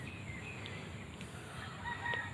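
Black Australorp and Rhode Island Red chickens roaming, faint clucks and brief calls at a distance over steady outdoor background noise, with no speech.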